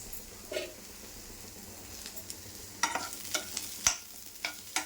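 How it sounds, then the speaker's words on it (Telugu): Onion pieces fry quietly in a spoonful of oil, a faint steady sizzle under a few soft spoon stirs and light clinks that grow more frequent toward the end. "ఆనియన్ని ఒక 1 స్పూన్ ఆయిల్లో ఇట్లా ఫ్రై చేసుకోవాలి"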